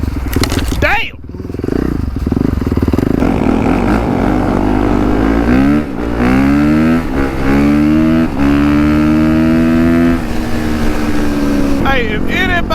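A motorcycle on street tires riding through sand, its engine droning loud and close with rising and falling revs and gear changes throughout, with wind noise over it.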